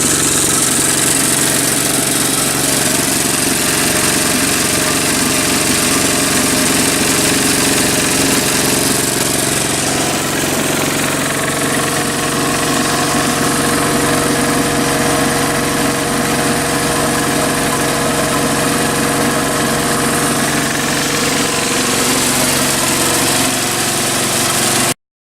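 Vibrating tumbler driven by a washing machine motor and standing on rubber feet, a steady loud hum and buzzing rattle running continuously with little change.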